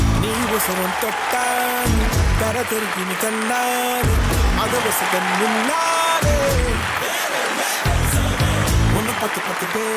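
A stage crowd at the Ayalaan film audio launch applauds to welcome the director, and the steady clapping blends beneath loud, sustained music that carries through the whole stretch.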